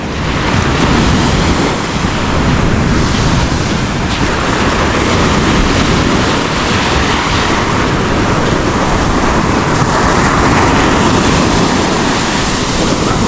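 Loud, continuous roar of surf breaking near the shore, mixed with heavy wind buffeting the microphone, with no voices.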